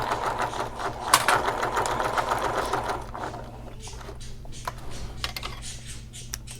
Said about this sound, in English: Sometimes I forget to stop and keep sewing, sew the whole thing closed